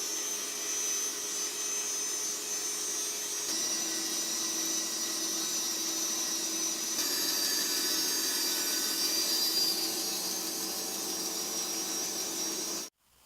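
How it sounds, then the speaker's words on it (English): A bandsaw runs steadily while cutting a long taper into a wooden table leg, giving a continuous loud whine and hiss with a slight shift in pitch partway through, then cutting off at the end. "So first trip down the bandsaw is complete."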